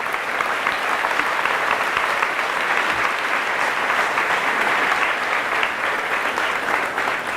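Sustained, even applause fills a church as the congregation claps for Jesus during a Catholic service, loud and dense from start to finish with no talk over it.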